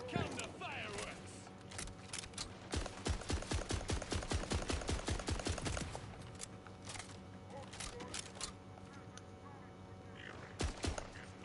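Rapid bursts of gunfire in the video game Borderlands 4, a dense run of sharp repeated shots in the middle with scattered single shots before and after, loud over continuous game sound.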